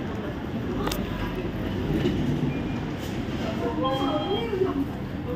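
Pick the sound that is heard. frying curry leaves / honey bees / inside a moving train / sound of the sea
inside a moving train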